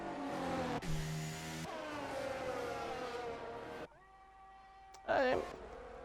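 A Ferrari Formula 1 car in the F1 23 racing game at the Qatar circuit, engine note climbing in steady revving harmonics as it powers out of a corner, with a sharp upward sweep near the end.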